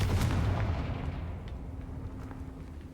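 A Confringo blast spell goes off in the Hogwarts Legacy video game, a loud booming burst at the start that rolls into a long rumbling decay over a low hum, with a few faint crackles trailing after.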